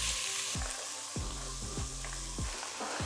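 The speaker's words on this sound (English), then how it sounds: "Give them a good stir." Lentil dish being stirred in a pot over high heat, a broad hiss and sizzle with several rhythmic scraping sweeps of the spoon, close by and without talk.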